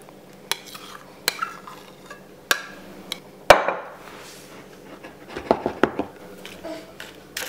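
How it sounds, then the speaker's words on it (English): A spoon scrapes and taps against cups and a bowl while no-bake cheesecake biscuit mixture is portioned out, making a run of sharp clinks and knocks, some louder than others, with short quiet gaps between them. "Now I'm just going to spoon in the mixture."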